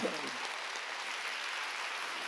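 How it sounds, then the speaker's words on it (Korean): A church congregation applauds during a Wednesday worship service, a steady, even wash of clapping that holds at moderate loudness from start to finish with no break. "박수로 하나님께 영광 돌려"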